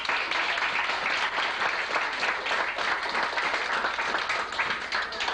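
A concert audience at a 1984 live show applauds in a dense, steady wash of clapping that stays loud and even throughout, with no voices standing out.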